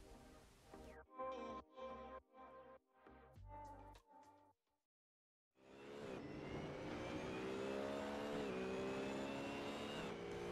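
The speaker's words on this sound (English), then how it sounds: "So here we go then in the BMW Z4 GT3." A BMW Z4 GT3 engine in Assetto Corsa at Spa gives a string of sharp rev blips, falls briefly silent, then returns as a loud, sustained roar that rises and shifts through the gears, with no speech.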